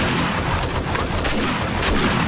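Shotgun fire in the video game 7 Days to Die makes a dense, continuous roar of blasts that runs without pause for the whole short stretch, with no voices heard over it.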